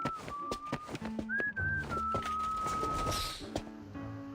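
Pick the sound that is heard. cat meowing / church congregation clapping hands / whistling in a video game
whistling in a video game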